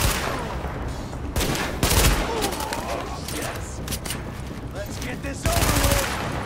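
Shooting in Tom Clancy's The Division video game comes as repeated loud bursts of automatic fire that swell and fall over several seconds, with faint voices underneath.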